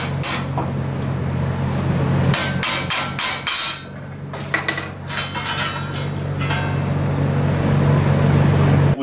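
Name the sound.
plastic mallet hammering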